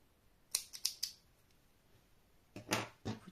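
A few crisp snips from scissors cutting a long tail of black crochet yarn, heard close up: three quick cuts, a short pause, then another cluster of louder snips.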